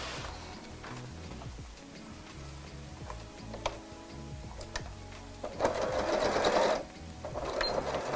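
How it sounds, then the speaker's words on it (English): A sewing machine stitches the seams of a tote bag refashioned from a cushion cover, running in a steady mechanical whir with ticking needle strokes and a louder, faster burst near the end. "then I'm just going to sew those in place"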